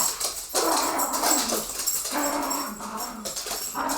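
Dogs in a home whimper and bark in a busy, continuous jumble, fairly close and loud, with the whining layered over scattered yips.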